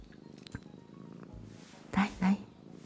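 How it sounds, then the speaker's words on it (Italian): Cat purring in the video game Dordogne, two short soft rumbling bursts near the end after a quiet stretch of faint game ambience. "Fa le fusa."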